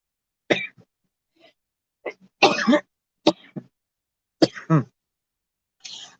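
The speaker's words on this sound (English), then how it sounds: "This cough is driving me insane." A person with a persistent cough lets out several separate short coughs and throat-clearing bursts, close and fairly loud, spaced irregularly with silence between them.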